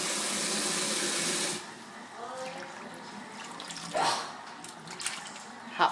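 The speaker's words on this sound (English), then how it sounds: "Soaking and cleaning the red chilies." Tap water runs loudly while red chilies are soaked and cleaned in a kitchen, then cuts off after about a second and a half. Faint splashes and handling noises follow.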